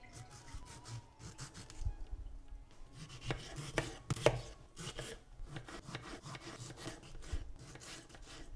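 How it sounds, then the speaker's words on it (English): A knife finely chops four medium tomatoes on a board with quick, steady, close taps that run almost without a break. "So I'm going to just again finely chop"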